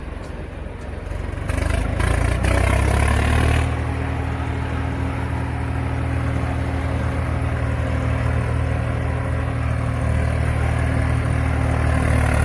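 A tractor engine, fitted with a deck sound system, starts up and settles into a steady, loud running drone with a low throb, close by and unbroken for the whole stretch, with no talk over it.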